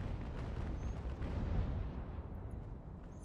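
Naval broadside fire from sailing warships in Ultimate Admiral Age of Sail, a deep rumbling barrage of cannon booms rolling together into a sustained low roar, loud and then slowly fading.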